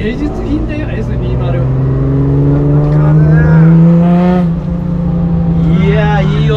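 Nissan Hakosuka GT-R with its S20 engine, a loud close-up engine drone that rises and swells in pitch while driving, with people talking and reacting over it throughout.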